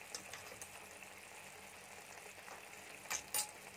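Ground spices (turmeric, coriander, cumin, black pepper and Kashmiri red chilli powder) frying in oil over a medium flame, a soft steady sizzle with a couple of brief louder crackles near the end.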